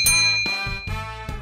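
A bright notification-bell sound effect rings four times in quick succession, each ding ringing on with a clear shimmering tone, with no voices.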